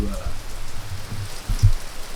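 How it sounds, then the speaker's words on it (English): Steady rain falling outdoors, a dense patter on surfaces with low rumbling underneath, a few louder thumps near the end. "it's raining like crazy out there"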